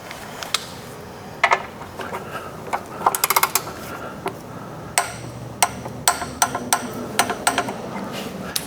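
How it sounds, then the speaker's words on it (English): Torque wrench tightening the oil drain plug on a Mazda CX-5 during an oil change: a run of sharp metallic clicks and ticks, sparse at first, then coming in quicker bursts, close and clear over a faint room background. "We're gonna wanna torque it to 23 to 30 foot-pounds."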